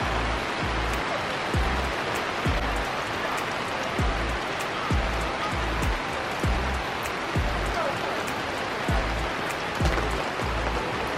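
Rain falls at a campsite with a steady hiss of drops on surfaces, overlaid by a regular series of low dull thuds like drips landing on a tarp or canopy, even and close throughout.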